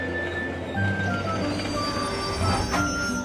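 A cartoon train pulls in with squealing wheels and a steady rolling rumble, thin high metallic tones drifting over the low drone, with no talk.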